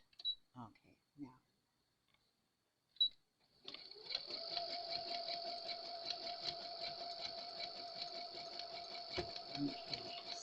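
A sewing machine runs steadily, stitching along a seam over orange yarn in crazy patchwork, a continuous close whirring hum that starts after a few short spoken words and quiet pauses.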